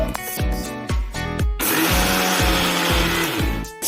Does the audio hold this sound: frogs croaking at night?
no